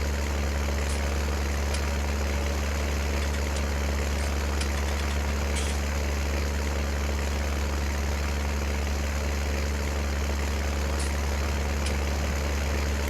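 A tractor engine in the video game Farming Simulator 19 runs steadily at idle, a constant low drone with faint clicks of game interface sounds over it.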